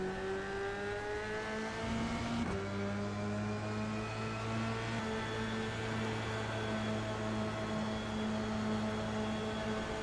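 An F3 race car engine at Suzuka in iRacing holds a steady, loud harmonic whine, jumping in pitch with a gear change a couple of seconds in, then droning on at a constant pitch.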